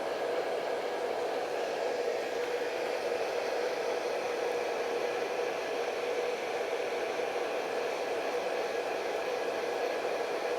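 A hair dryer blowing on a portrait painting gives a steady, close, even whoosh with no pauses, heard alone.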